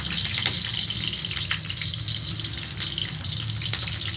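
Garlic frying in hot cooking oil in a pan, a dense, steady crackling sizzle that holds evenly throughout, close and fairly loud with no talking.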